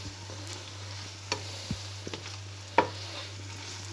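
Chicken and rice being stirred together in a skillet, soft scraping and light clinks over a low steady hum and gentle sizzle, with a few sharper knocks of the utensil against the pan.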